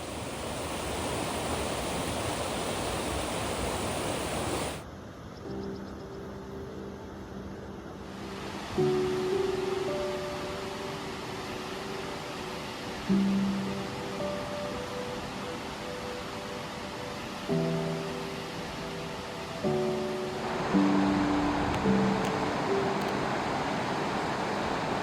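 The Tugela River rushes through the Drakensberg gorge as a steady broadband roar of flowing water, with music tones layered over it partway through.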